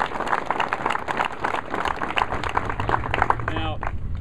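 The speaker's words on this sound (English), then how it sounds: "Let's give them a round of applause." Audience applause at a public event with a governor in Lincoln, irregular bursts of clapping with chatter and voices running underneath.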